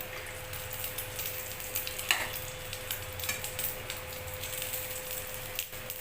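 An egg omelette fries in a pan, a soft steady sizzle with light scraping and stirring touches and a faint constant hum underneath, quiet and close, with no talking.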